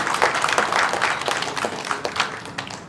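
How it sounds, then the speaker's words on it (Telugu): Audience applause at a Women's Day celebration, a dense wash of many hands clapping steadily throughout, fairly loud and close, with no talk over it. "hearty congratulations and big applause ఇవ్వండి"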